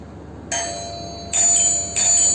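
A bell rings three times in a row, each a bright sustained ring that keeps humming into the next strike.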